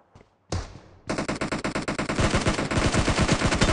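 Rapid automatic gunfire in a team-match video game starts with a couple of single shots, then settles into a steady, loud stream of evenly spaced rounds that continues to the end.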